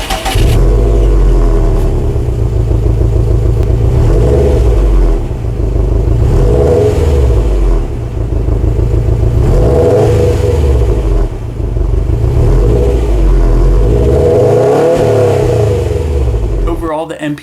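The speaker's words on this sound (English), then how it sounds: "And here's what that power sounds like." A 2016 Subaru WRX STI's 2.5-liter turbocharged boxer engine revs loudly and repeatedly, rising and falling in steady waves for the whole stretch, near and unbroken.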